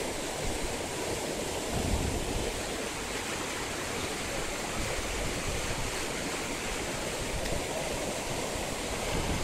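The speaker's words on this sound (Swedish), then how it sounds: "står vi här vid det forsande vattnet som delar Cuencas gamla och nya stadsdel" Rushing river water in Cuenca, Ecuador, where the river divides the old and new town below the Barranco cliffs, a loud steady broadband roar that stays constant without a break.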